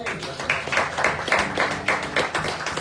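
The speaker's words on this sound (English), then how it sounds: "Please applaud yourselves" Congregation at a church service applauding, a dense, steady wash of many hands clapping at close range for about three seconds, loud and continuous with no talking.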